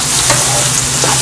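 A mango pachadi mixture with green chillies is stirred in a hot pan, giving a loud, close sizzle and frying crackle with the scrape of a spoon and no talking.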